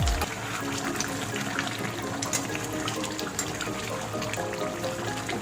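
Chicken curry simmering in a covered kadhai, a continuous close bubbling and gurgling with faint pops, steady and without talk.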